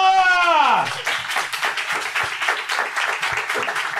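Clapping from a stand-up comedy audience breaks out after a voice's rising call and carries on steadily as close, brisk applause with some crowd noise.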